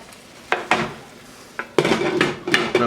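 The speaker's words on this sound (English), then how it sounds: "I'm going to put a lid on this." A lid clatters onto a pan of simmering soba noodles with ground beef, with a few sharp metallic knocks and clinks, then a denser burst of rattling pan and utensil sounds, close and moderately loud.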